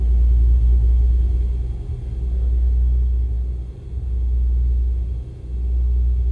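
Twin piston engines of a Beechcraft Baron G58 in the X-Plane flight simulator, taxiing toward the runway, give a steady, loud low drone that swells and dips gently without pause.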